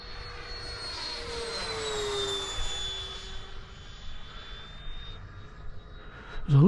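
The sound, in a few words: Freewing F-4 Phantom model jet flying at half throttle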